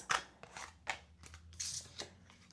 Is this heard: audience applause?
no